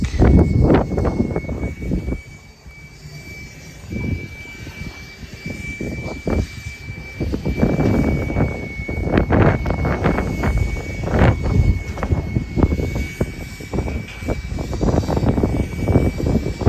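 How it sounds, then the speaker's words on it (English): Strong gusting wind buffets the open flight deck of the aircraft carrier USS Yorktown in Charleston, roaring steadily near the microphone with broadband rumble and brief lulls, and no talk over it. "It is breezy up here today."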